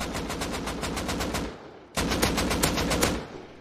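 Automatic gunfire in the survival video game Rust: two long, rapid bursts of rattling shots, loud and close, separated by a brief pause.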